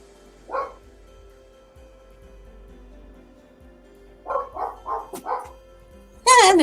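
A couple of dogs bark, one short bark early, then a quick run of four or five mid-range barks, heard a little distant in a quiet room, ending with a loud, sharp yelp-like burst.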